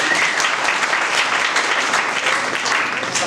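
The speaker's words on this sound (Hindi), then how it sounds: "बहुत वेरी ताली बजाओ इसके लिए।" A church congregation claps loudly and continuously, many hands forming a thick, close wash of applause at an Easter fellowship gathering.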